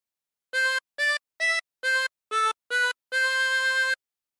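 A 24-hole tremolo harmonica plays a short Waltzing Matilda phrase as six clean, evenly spaced notes followed by one longer held note, close and alone.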